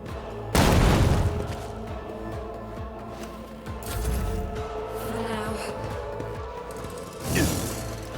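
Grenade blast in the Warhammer 40,000 video game Rogue Trader: a loud, sudden booming burst near the start, followed by buzzing, rumbling game effects and a second sharper impact toward the end.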